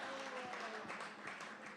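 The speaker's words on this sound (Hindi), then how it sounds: "जोरदार तालियां बजाइए" Audience applause at a poetry gathering, steady dense clapping from a crowd, faint and somewhat distant, lasting the whole short stretch.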